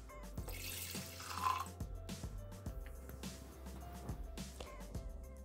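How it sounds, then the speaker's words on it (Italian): Milk is poured into the bowl of a Thermomix (Bimby) kitchen machine, a soft, close liquid splash and trickle that runs steadily for several seconds with faint clinks. "Iniziamo la ricetta mettendo all'interno del boccale il latte."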